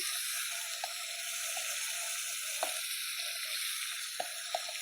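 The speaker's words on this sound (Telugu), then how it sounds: "ఇప్పుడు మ్యారినేట్ చేసి పెట్టుకున్న మటన్ వేసేద్దాం" Marinated mutton goes into hot oil that already holds a tempering of chillies and bay leaf, giving a soft, constant sizzle. Faint scattered pops and stirring clicks sound through it, with no voices.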